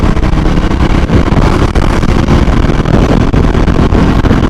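A motorcycle at full throttle, either a Scrambler 400X or a Kawasaki Z900, roars loudly and steadily under heavy wind rush, with the engine note blending into a constant buffeting roar.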